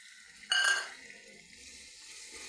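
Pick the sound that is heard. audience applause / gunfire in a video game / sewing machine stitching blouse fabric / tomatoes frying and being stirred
tomatoes frying and being stirred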